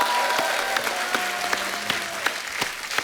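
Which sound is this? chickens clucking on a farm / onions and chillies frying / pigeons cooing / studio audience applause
studio audience applause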